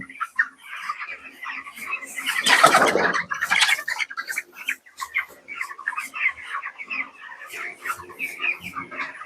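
Broiler chickens on a poultry farm fill the space with many overlapping chirps, clucks and squawks, a busy flock close by with a louder burst of wing flapping partway through.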